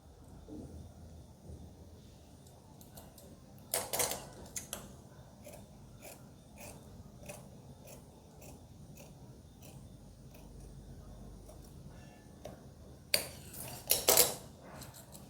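Scissors cut through palazzo pant fabric in soft, repeated snips and clicks, mostly quiet, with two short clusters of louder crisp cuts.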